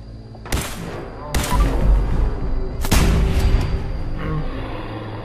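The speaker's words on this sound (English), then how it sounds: "I just want to shoot her." Gunfire in the video game Fallout 4 Far Harbor: three loud, sharp shots with heavy booming tails ring out about a second apart over low background game ambience.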